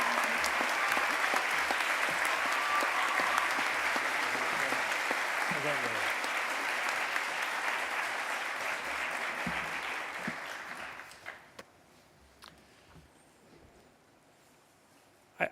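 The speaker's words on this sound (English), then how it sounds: "I really do want to offer another round of applause for both of our incredible student speakers today." A commencement audience applauds the student speakers with sustained, broad clapping that holds steady for about ten seconds and then fades out into quiet room tone, with some voices mixed in.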